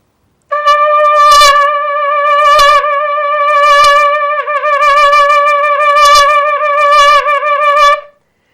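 A hunting call used with a foxhound pack in Nevada signals the end of the chase. A loud, sustained, wavering tone is broken by several sharp accented bursts and holds for about eight seconds, alone and close.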